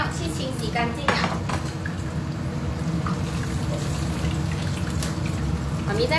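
Pots, pans and cutlery clatter and scrape in a home kitchen sink as water runs, a steady busy wash with frequent metallic knocks, heard close and fairly loud throughout.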